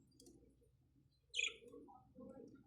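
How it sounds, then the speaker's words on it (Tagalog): A pet parakeet gives a few short, soft chirps and one brighter, louder tweet close by in a quiet room. "bisitahin natin ang ating mga mahal na mga ibon"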